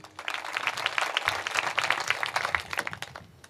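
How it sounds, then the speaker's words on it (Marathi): Applause from a kirtan audience rises into steady, dense clapping for several seconds and then eases off toward the end, with no voices over it. "वाजवा टाळी."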